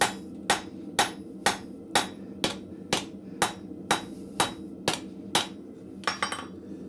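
At a blacksmith's forge, a hammer strikes hot metal on the anvil about a dozen times in a steady rhythm, roughly two blows a second. Each ringing clang sounds close and is followed by a short decay.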